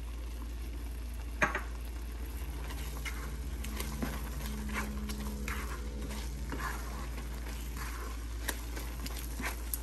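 Beetroot burfi mixture is stirred in a pan on the stove, a soft continuous sizzle with scraping and light taps of the spoon, close and fairly quiet over a low hum.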